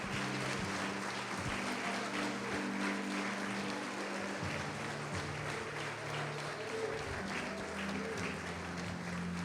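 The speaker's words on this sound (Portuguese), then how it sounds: "Pode aplaudir o Senhor Jesus e glorificar." A church congregation applauds in praise during a worship service, a long, even roar of many hands clapping at moderate volume, with steady organ or keyboard tones sustained underneath.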